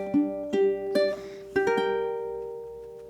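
Fingerpicked guitar walk-up in bar 8 of a sad, slow arpeggio etude: a handful of plucked notes climbing one after another, the last chord left to ring and fade, quiet and close with no talking.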